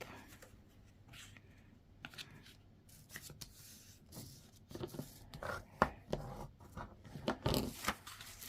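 Paper is folded and creased for a junk journal: soft rustles and sliding rubs, then firmer pressing and flattening sounds toward the end, close and quiet, with no speech.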